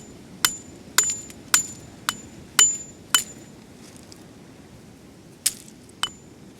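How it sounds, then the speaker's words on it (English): Sharp metallic pick hammer strikes breaking fossil-bearing rock at Yaverland, Isle of Wight, about nine distinct taps in an irregular rhythm, close and clear against a quiet outdoor background. "a nice size hammer to break them is ideal"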